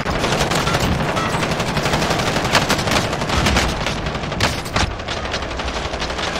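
Rapid machine gun fire in the Warzone shooter game, a dense continuous rattle of shots with scattered louder bursts throughout, loud and close.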